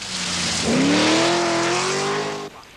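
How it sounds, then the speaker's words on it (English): Triumph TR7 rally car with a V8 engine on a forest stage during the 1980 Mintex Rally: a loud, steady engine roar rising in pitch as it accelerates, then cutting off abruptly near the end. "Roger Clark is giving his V8 engine Triumph TR7 its first forest outing."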